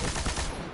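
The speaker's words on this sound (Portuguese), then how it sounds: "eu equipei ela agora, uma metralhadora bem pesada" A heavy machine gun fires in the video game Destiny, a rapid, dense burst of loud shots lasting under a second.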